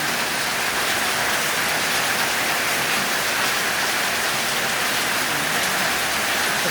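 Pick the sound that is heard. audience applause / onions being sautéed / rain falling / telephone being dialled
rain falling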